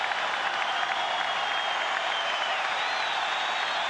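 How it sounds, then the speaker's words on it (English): A baseball stadium crowd applauds steadily as a perfect game ends on a walk, a dense, sustained wash of clapping and cheering that holds at an even level throughout without pause. "As Ricky Weeks reaches, and an appreciative crowd."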